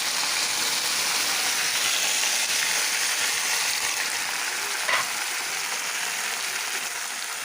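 Nigella seeds fry in hot oil in a wok, giving a steady, loud bright sizzle close by that stays even throughout, with one brief sharper crackle partway through.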